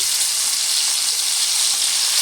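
Small hilsa fish fry in hot oil in a pan, a loud, dense and unbroken hissing sizzle heard up close with no speech.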